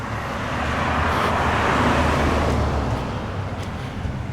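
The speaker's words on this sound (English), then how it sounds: "So far, that was the first law enforcement vehicle that I'd seen out patrolling" An unmarked police car drives past on a small-town street, a steady broadband roadway whoosh that swells and fades over a few seconds, fairly close, with no voices.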